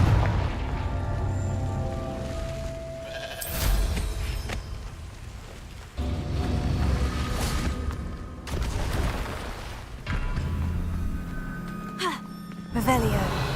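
Repeated Confringo fire blast spells from the video game Hogwarts Legacy, several loud booming bursts spread across the stretch over a steady game soundscape, with a voice talking throughout.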